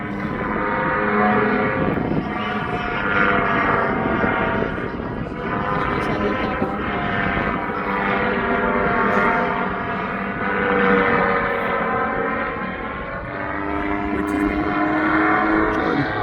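An airplane flies and lands in strong wind at a fly-in event, a steady loud engine drone with wind buffeting running throughout, no speech.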